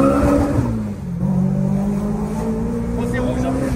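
A supercharged car engine revs and drones close by, with its pitch dipping and then climbing steadily under voices talking over it.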